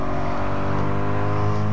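In a racing video game, a 2016 Toyota GT86 engine drones loudly and steadily at sustained revs, a dense, unbroken buzzing tone with no talk over it.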